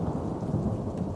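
Thunderstorm on a dark rainy night over flooded farm fields, with a steady, dense roar of heavy rain and a low rumble of thunder running through the whole stretch, no voices.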